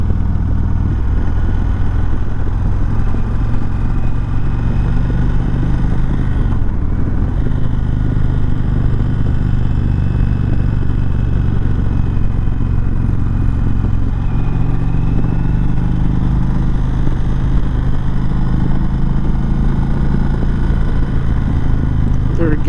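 2019 Indian Chieftain Dark Horse motorcycle engine pulling in third gear near 50 mph, a loud steady close-up drone with low rumble and wind roar, occasional shifts in pitch, and a rider's voice heard over it.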